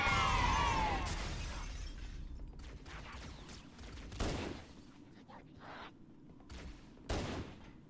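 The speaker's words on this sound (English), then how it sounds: "Who's shooting at me?" Gunfire and impacts in Halo: Combat Evolved, a loud crash at the start followed by scattered sharp shots and bursts, several louder hits standing out at irregular intervals over quieter background noise.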